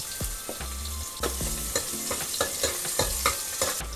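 Onion and garlic sizzle in hot tempering oil while a spoon stirs and scrapes the pan in repeated clanks and thumps over the constant close frying hiss, with no one speaking.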